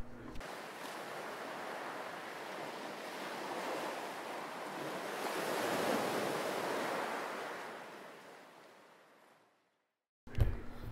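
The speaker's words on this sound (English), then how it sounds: "Ocean." Ocean waves and surf wash in as a steady, rushing roar that swells and slowly fades over several seconds. A short gap of silence follows, then a brief burst of a different sound at the end.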